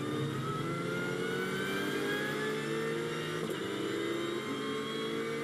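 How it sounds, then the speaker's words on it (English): A GT4 race car accelerates steadily on board at Misano circuit, its engine note rising in a continuous drone that stays loud and close throughout with no talk. "on board with Hergon as he accelerates down towards turn 11"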